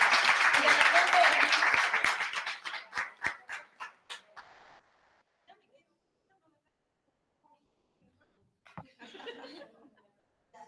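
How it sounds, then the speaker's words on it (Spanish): An audience at a seminar claps loudly at first with some laughter, the applause thinning into scattered separate claps before fading to quiet, then a brief murmur of voices. "El aplauso para ustedes."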